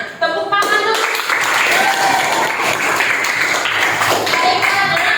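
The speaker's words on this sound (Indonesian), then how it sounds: "Tepuk tangan dulu." A classroom of students claps together at the end of a lesson, a loud, dense burst of applause that starts abruptly and continues steadily for several seconds close by, with some voices mixed in.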